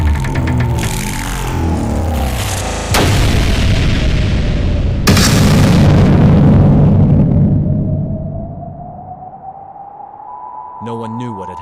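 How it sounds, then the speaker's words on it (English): Explosions go off in an animated sea-warrior battle, with deep booms and sharp bursts cutting in around the third and fifth seconds over a rumbling, sweeping backdrop, followed by a fading drone and a brief electronic tone. "explosions had occurred here and there without any certainty"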